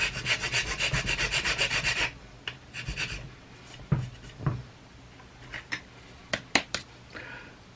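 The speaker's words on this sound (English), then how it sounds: "use a hand file like that" A hand file rasps back and forth over a magazine being modified for a GSG-16 to MP5 conversion, fast rhythmic strokes for two seconds, then scattered scrapes and taps follow, close and fairly quiet.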